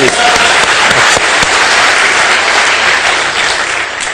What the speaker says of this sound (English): I think a round of applause for Brian.